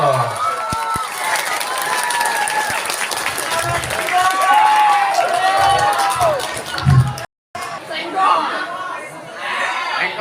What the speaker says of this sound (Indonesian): Tepuk tangan dulu loh.